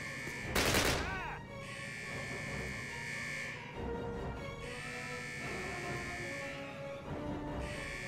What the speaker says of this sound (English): That's the MG40 from Warzone.